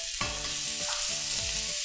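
Fermented Thai pork sausage (naem) being stir-fried and broken up in a hot pan, with a loud steady sizzle and rhythmic scraping strokes of a spatula, roughly every half second.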